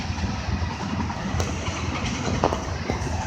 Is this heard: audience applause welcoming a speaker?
no